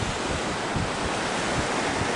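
Strong wind gusting across a sandy Lake Superior beach on a fall day, a loud continuous roar of air buffeting the microphone with surf-like rushing, steady for the whole stretch.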